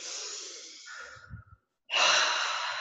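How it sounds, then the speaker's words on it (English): A person takes a big deep breath during an energy-healing session: a long, close airy inhale, a brief pause, then a strong, full exhale. "Okay, big deep breath"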